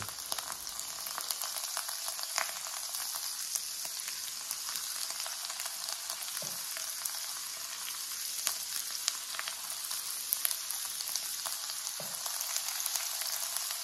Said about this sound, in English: you know when it starts to sizzle like that